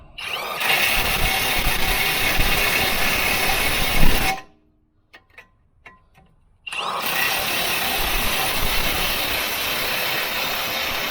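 A ratchet tightens a bolt on a Jeep Patriot axle during CV axle replacement, with loud continuous mechanical noise up close, a sudden break with a few sharp clicks, then the noise resumes, no talking.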